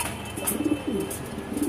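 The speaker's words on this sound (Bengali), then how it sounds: "এ হচ্ছে আমার পছন্দের একটা কবুতর" A racing pigeon from a world-famous Kitel line coos in soft, low, repeated bursts close by, with a steady background hum and no talk.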